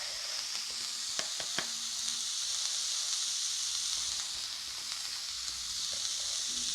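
Food sautés in a pan with salt, giving a steady, fairly quiet sizzle with a few light scraping taps of stirring scattered through it.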